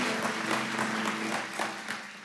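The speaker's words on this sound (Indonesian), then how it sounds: "Tepuk tangan semuanya," Church congregation applauding together, steady dense clapping with a faint rhythmic pulse, filling the room at moderate loudness, with some sustained tonal sound underneath.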